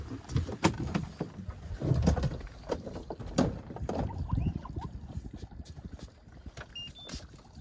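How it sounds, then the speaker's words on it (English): A boat's trolling motor is lowered into the water while drift fishing for catfish, making a series of clunks, knocks and mechanical rattles up close, followed by softer water trickling. "I'm gonna drop the trolling motor real quick."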